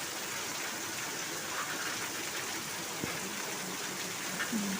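Constant rain hisses evenly throughout, a broad steady wash of water with a couple of faint knocks in the background.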